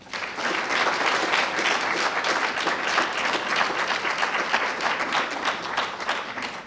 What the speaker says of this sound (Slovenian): Lahko zaploskamo.